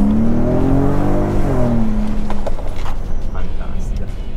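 A car engine revs and pulls hard while accelerating, rising in pitch before easing off, loud and close, then settling into a rougher road rumble.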